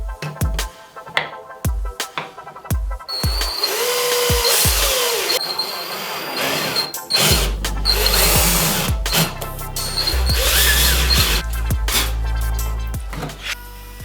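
A power drill drives screws into new scrap-wood replacement jaws on a vintage Record 51 Junior vise: a few short clicks, then sustained loud whirring runs with pauses, close and without talk.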